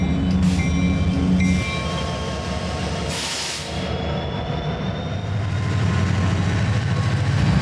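A freight train crossing at a customs checkpoint pulls slowly past, with a continuous heavy rumble of rolling railcars and brief metallic squeals and clanks rising over it, close and loud throughout.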